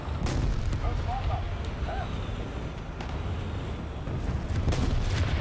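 Artillery fire in a tank video game, deep booming shots and rumbling blasts over a constant low engine drone, with a sharp crack near the start and another near the end.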